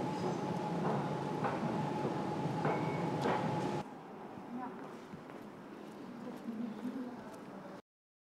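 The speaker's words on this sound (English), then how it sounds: "The train comes soon, and after a short time we arrive in the city center." Commuter train arriving at a station in Stockholm: a loud, steady rail rumble with a sustained tonal whine, then a quieter stretch of rolling and clanking as it slows, with some voices in the background.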